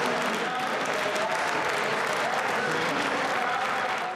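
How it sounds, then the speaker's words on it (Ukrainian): Sustained applause fills a parliament hall as lawmakers clap for a guest entering the gallery, a dense, even wash of clapping held at steady volume throughout. "Зала зривається оплесками."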